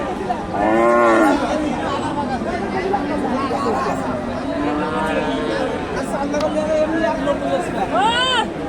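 A young Friesian bull calf about a year old moos repeatedly at a cattle market in Bogura, several loud calls rising over steady crowd chatter and nearby talk.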